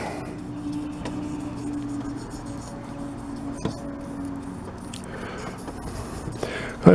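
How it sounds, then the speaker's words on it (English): Dry 1500-grit sandpaper rubs over an aluminum wheel rim in steady, low scratchy strokes beneath a constant hum, with a sharper knock near the end. "I find using the sandpaper dry, what I can tell is it cuts better than when it's wet."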